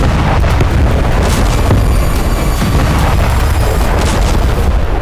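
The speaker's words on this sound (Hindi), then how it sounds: "दक्षिणी लेबनान में हो रहे विस्फोट हिजबुल्ला के साथ इजराइल की ऑल आउट जंग का प्रमाण है।" Heavy, continuous blasts and booming explosions from the war in southern Lebanon, loud and dense with rumbling impacts and crackling bursts layered throughout.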